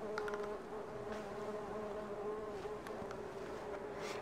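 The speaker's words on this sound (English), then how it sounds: "Look at them all. Working away. Busy, buzzy bees." A swarm of honeybees buzzes steadily and close, a dense continuous hum with a few individual bees flying near and past.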